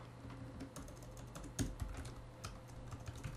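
Fingers tap on a computer keyboard while writing Python code, a quiet, close run of irregular keystrokes with a few sharper clicks.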